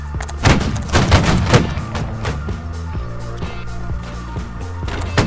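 Musket volleys in the Holdfast line-battle game: a ragged burst of loud, sharp cracks near the start, then scattered lighter shots and clatter over a busy battlefield background.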